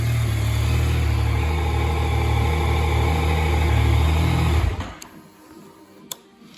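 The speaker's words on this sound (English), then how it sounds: "Do a little blip for you. I mean, still, for a stock exhaust, it does sound nice." A stock-exhausted Yamaha MT-09 motorcycle idles loud and close with a low, steady rumble for several seconds, then cuts off abruptly, leaving near-quiet with a faint tick.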